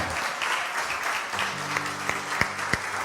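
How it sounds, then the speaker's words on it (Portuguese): A church congregation applauds together during a worship service, a steady wash of clapping throughout with a few sharper, louder claps standing out near the end. "Vamos lá, gente, aplauda aí com fé."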